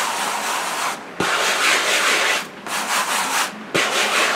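Hand rubbing back and forth across an unprimed canvas board, loud close scratchy strokes in three long sweeps separated by brief pauses, no speech.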